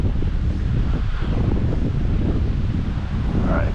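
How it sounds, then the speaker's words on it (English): Strong gusty wind buffets the microphone outdoors beside a stream while fly fishing for cutthroat trout, a continuous loud low rumble with no talking. "Oh, and of course the wind is picking up."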